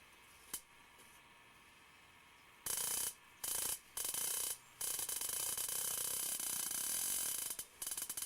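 A brake is applied to an electrokinetic rotor, producing an abrupt mechanical grinding and rubbing that starts and stops in several bursts before settling into a longer sustained scrape, after a faint click.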